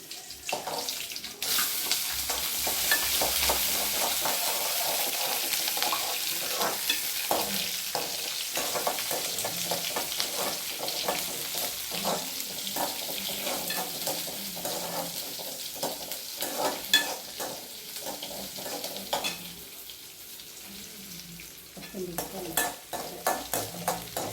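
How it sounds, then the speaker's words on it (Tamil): Shallots and curry leaves sautéing in a pan, a continuous loud sizzle with frequent stirring scrapes and clicks, close up and without talk. "சின்ன வெங்காயம் கொஞ்சம் வதங்கிடுச்சா."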